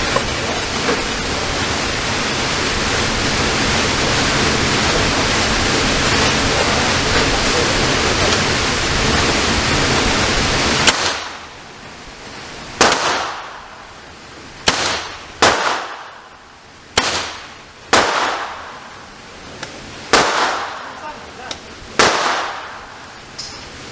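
A B&W S45 .457 caliber big-bore airgun fires about nine sharp, loud cracks at uneven intervals on a 30-yard range, each with a brief decaying tail, after a stretch of steady broadband hiss.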